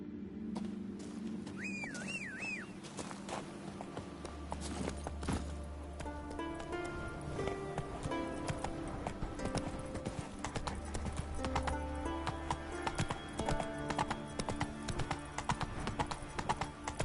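Roach the horse trotting in The Witcher 3, steady clip-clop hoofbeats running throughout under game music, with a brief whistle early on and faint voices in the background.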